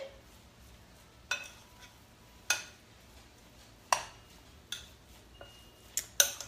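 A spoon clacks against a bowl while meatloaf ingredients are mixed, giving sharp, separate knocks every second or so over a quiet background, with no talking.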